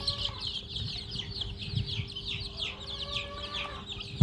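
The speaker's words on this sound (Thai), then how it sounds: "วันนี้พาไปดูไก่บ้านก่อนนะครับ" Thai native chicks and hens on a farm peep and cluck continuously in a busy, overlapping chorus, with high chirps over low clucking and rustling, and a brief louder knock at the end.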